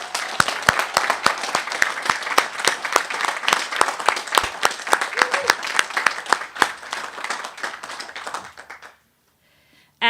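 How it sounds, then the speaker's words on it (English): Graduation ceremony audience at a private academy commencement breaks into loud, sustained applause, dense rapid clapping for about nine seconds before it abruptly cuts off. "Could you please have a round of applause for them?"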